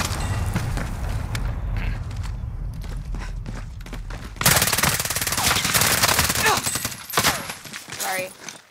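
Rapid bursts of video game gunfire, including machine gun fire, start with scattered shots and then break into a loud, dense fusillade. Players' voices and footsteps are mixed in.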